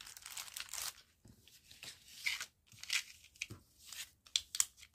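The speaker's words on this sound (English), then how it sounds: "Let's grab out a drop paper." A sheet of drop paper is crumpled and handled up close during junk journal crafting, producing irregular bursts of crisp crinkling and tearing-like rustles separated by brief pauses.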